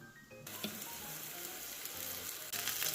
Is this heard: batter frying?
yes